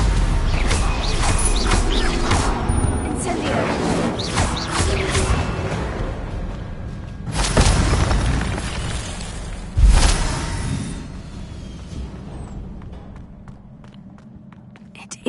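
A fiery Incendio spell bursts out in Hogwarts Legacy, loud and crackling, with heavy whooshing blasts around 7 and 10 seconds over continuous game ambience and rumbling effects.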